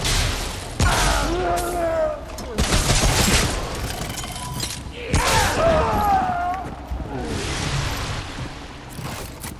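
Gunfire in the video game Remnant: From The Ashes rattles out in loud, close bursts and volleys, mixed with other combat effects and a voice reacting between shots.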